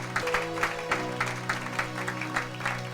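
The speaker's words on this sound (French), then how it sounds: "Acclamez pour la gloire d'éternel notre Dieu" A congregation claps in rhythmic unison during a worship service, steady beats roughly every third of a second, with sustained music or singing tones underneath.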